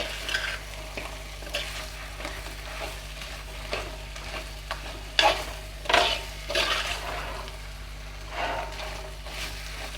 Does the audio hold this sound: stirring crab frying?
yes